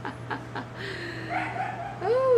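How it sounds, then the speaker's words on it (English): A dog at home barks toward the door in a few short, sharp yips, then lets out a higher whining bark, fairly close against a steady low electrical hum. "At this point, what are you barking at?"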